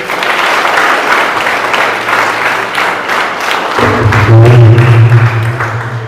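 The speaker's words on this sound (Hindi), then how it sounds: "एक बार और तालियां बजाइए" A seminar audience at a career guidance class breaks into loud, sustained applause, a dense wash of many hands clapping close by, with a low voice or hum rising near the end.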